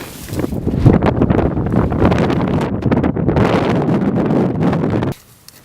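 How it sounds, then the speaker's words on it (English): Strong wind buffets a tent in Joshua Tree National Park, a loud, continuous roaring rush with flapping and rustling that cuts off abruptly near the end. "But the wind up here is no joke."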